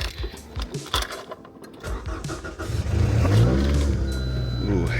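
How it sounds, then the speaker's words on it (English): A car that sat outside for four months cranks briefly and fires up right away, settling into a loud, steady idle close by after some earlier handling noises. "engine started a little bit, but considering it's been sitting for 4 months, it fired up right away"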